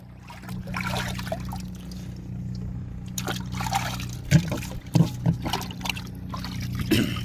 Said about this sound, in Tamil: இப்போ தான் நாங்கள் கழுவி அலசி எடுத்துகிட்ருக்கோம்